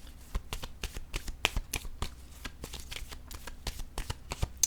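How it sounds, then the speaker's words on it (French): A deck of cards is shuffled and a card drawn, giving a quick run of crisp riffling flicks and snaps, close and clear with no talking, during a tarot-style card reading. "Je vais piger une autre carte."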